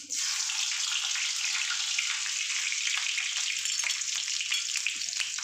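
Chopped garlic dropped into hot oil sets off a steady, bright sizzle close by, holding at an even level with no talking.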